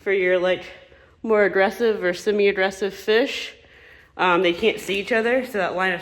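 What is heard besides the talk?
No distinct noise like a dog, phone or traffic.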